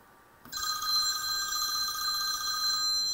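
A phone starts ringing abruptly after a short quiet moment, a loud continuous electronic trill that carries on steadily and close with no talking over it.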